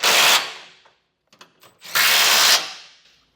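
Power tool driving trailer hitch hardware with a 21 mm socket on a 2015 GMC Sierra 1500, two loud close bursts of whirring separated by a pause with a few faint clicks.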